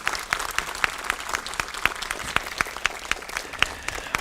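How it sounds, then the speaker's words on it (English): An audience at a school press conference applauds in a steady, lively stretch of clapping, with sharp individual claps standing out over the broader patter throughout. "give another round of applause to these incredible young people that spoke to you this morning"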